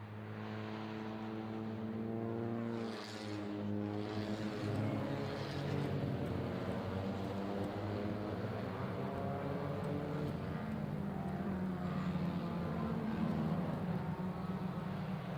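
Race cars on a formation lap around the 4.2 km Salzburgring circuit in Austria, a Swift Cup Europe field, their engines droning steadily and continuously at a moderate distance with rising and falling revs throughout.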